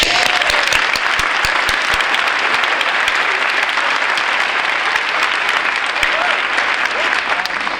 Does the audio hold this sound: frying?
no